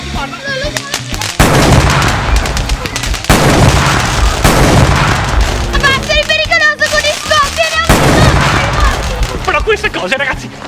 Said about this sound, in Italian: Abbiamo un sacco di petardi!